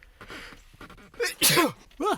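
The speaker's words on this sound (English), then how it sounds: "just had to sneeze" A sharp sneeze bursts out after some soft movement and breathy sounds, followed by a brief second vocal burst, close to the microphone.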